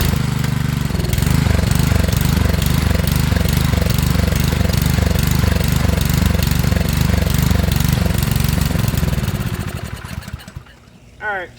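A Honda pressure washer's small engine runs loud and close with a steady, rapid chugging beat that holds throughout, then sputters and dies near the end.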